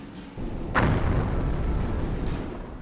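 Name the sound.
artillery strike in the video game Company of Heroes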